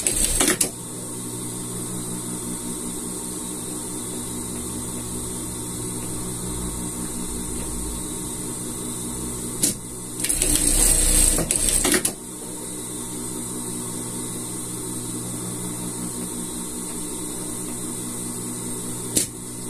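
A sewing machine stitches seams on a gaucho-style pet outfit, giving a steady close mechanical whir with a brief louder burst midway, no voices present.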